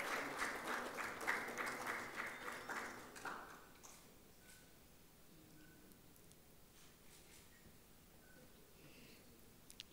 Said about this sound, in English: Good round of applause, please.